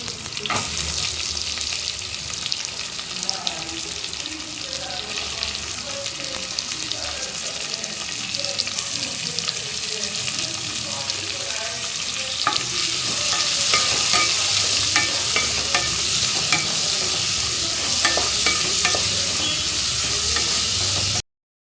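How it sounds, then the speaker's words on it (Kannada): Two finely chopped onions frying in a pan for chicken liver fry, a continuous loud sizzle with repeated scraping strokes of stirring, growing brighter and denser toward the end. "ಇವಾಗ ಇದಕ್ಕೆ 2 ಈರುಳ್ಳಿನ ಸಣ್ಣದಾಗಿ ಹೆಚ್ಚಿಕೊಂಡು ಹಾಕ್ತಾ ಇದ್ದೀನಿ."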